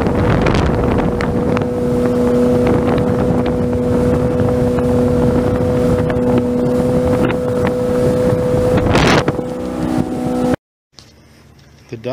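A Sea Ray SRV200 motorboat runs across a lake, its engine droning loud and steady with strong wind buffeting against the microphone, until it cuts off abruptly near the end.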